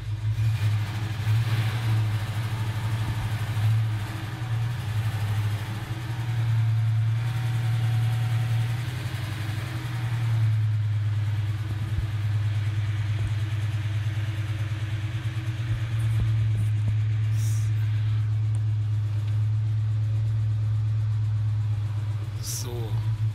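A US pickup truck engine drones steadily from inside the cab, a deep continuous rumble that rises and falls slightly with the revs, loud and close throughout.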